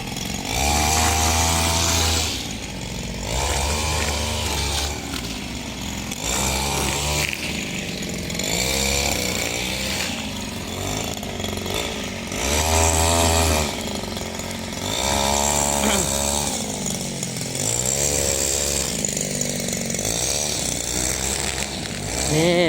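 A motorized grass cutter runs continuously through a morning grass-cutting job, its steady engine drone rising and dipping in repeated surges as it works, loud and close with no speech over it.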